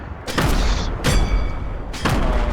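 Grenade explosions in a video game, three sharp loud booms spaced about a second apart, each with a short rumbling tail.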